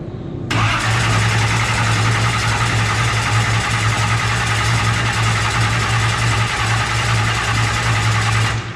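A 540 race engine in a Nova race car is cranked over by the starter, a loud, steady, buzzing whir that kicks in abruptly and holds evenly for several seconds, close up and without firing.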